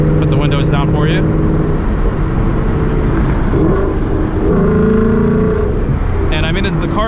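A loud 2019 Mustang GT V8 engine rumbles and revs close by, rising and settling in pitch, with a few brief sharper bursts near the start and end.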